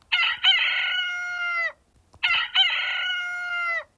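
A rooster on a farm crows twice in a row, each loud cock-a-doodle-doo rising sharply and then holding a long drawn-out note, with a short pause between the two calls and no other sounds.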